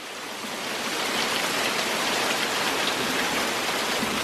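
Heavy rain pouring down on a flooding yard, a loud, dense, continuous roar of water that swells in over the first second and then holds steady, with no voices.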